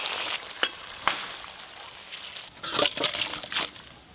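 Boiled potatoes and radish are drained from a pot, with soft sloshing and trickling water, a couple of sharp knocks early on, then a louder gush of pouring near the end, fairly quiet overall.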